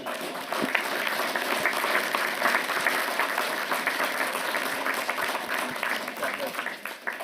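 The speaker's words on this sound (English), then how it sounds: "Give yourself a round of applause, please." Audience applause fills a Merrillville town council meeting, a dense, steady clapping from the crowd that holds for about seven seconds with a few voices mixed in.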